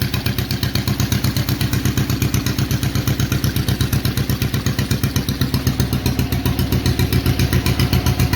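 A restored John Deere LA tractor engine idles steadily, a rapid even thumping putter that holds a constant rhythm, loud and close throughout with no talking.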